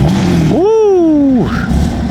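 A BMW F80 M3 with a loud modified exhaust fires off a single sharp rev that climbs, holds and drops back to a rumbling idle, close and loud.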